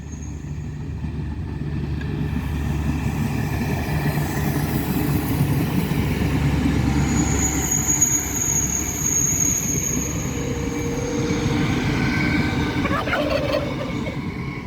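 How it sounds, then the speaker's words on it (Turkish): A train rumbles in with a steady low roar, joined by drawn-out whistling squeals of brakes and wheels on the rails as it nears. "Tren geldi."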